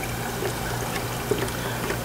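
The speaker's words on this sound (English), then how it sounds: "And you just put in any amount of water, it doesn't matter." Water pours steadily into an ice cream machine for cleaning, a continuous soft trickle and splash heard up close with nothing else in the background.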